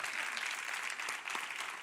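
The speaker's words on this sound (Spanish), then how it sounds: "si quiere aplaudir, aplauda, por favor" Steady applause from a church congregation, dense and even throughout, with a few sharper claps standing out.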